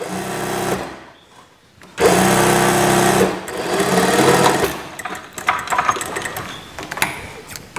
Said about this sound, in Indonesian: Kita jahit terus ke atas.